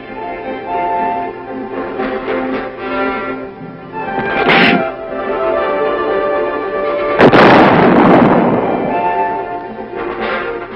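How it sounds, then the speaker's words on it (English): Artillery guns fire during weapons testing at Aberdeen in 1969, loud booming blasts with a big one near the end, set over a steady tonal background hum. "A charge is added, and the weapon is ready to fire."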